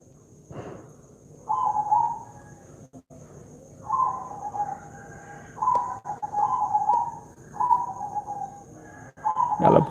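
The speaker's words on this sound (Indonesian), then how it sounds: "Kalau Bapak Ibu sedang mendengarkan background dari siaran kami, ada suara perkutut, ya sudah." Zebra dove (perkutut) cooing in the background, a repeated series of soft rhythmic coo phrases spaced a second or two apart over a quiet room with a faint steady hum.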